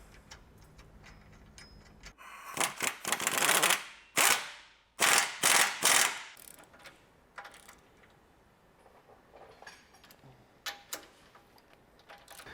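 A ratchet clicks rapidly in several close, loud bursts while a bolt on a Toyota Tacoma sway bar is tightened, followed by a few fainter scattered clicks and metallic taps.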